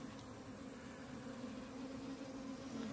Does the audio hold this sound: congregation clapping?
no